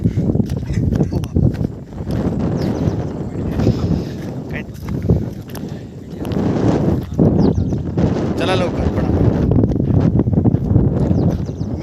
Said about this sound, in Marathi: जबरदस्त हवा चालू इथं